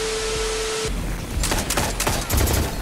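Shotgun blasts in a shooter video game, a few sharp, loud reports in quick succession after a steady droning background, with clattering game noise between shots.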